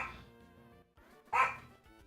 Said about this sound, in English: And you all can hear Bella bark.